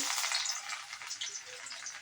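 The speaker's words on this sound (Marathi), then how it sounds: "तेल तापलं की लसूण घालायचं आहे" Garlic sizzles in hot oil in a kadai for cabbage Manchurian, a soft but dense crackling hiss that runs unbroken for two seconds with no voices.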